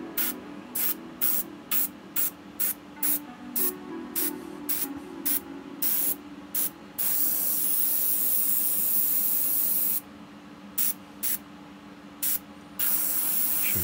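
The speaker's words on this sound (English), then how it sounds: "Here I can get it probably with an airbrush" An airbrush sprays dark paint onto a 3D printed model kit in short, rapid hissing bursts, then in longer continuous blasts, up close and with no talking.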